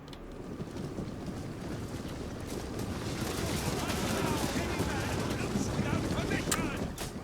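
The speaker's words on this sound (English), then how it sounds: "archer fire coming in a ridiculous amount here" Battle noise from the Rome 2 Total War video game during a 3v3 fight for Tarsus: a dense, roaring wash of rustling fire and crackle swells gradually louder. No voice is heard.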